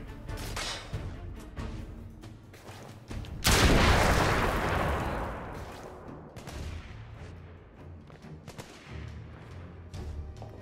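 Gunfire in The Order: 1886 crackles in repeated sharp reports, then a heavy booming blast erupts and rolls away, followed by scattered shots and impacts.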